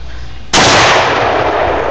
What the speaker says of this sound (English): I am videoing my friend shooting a gun.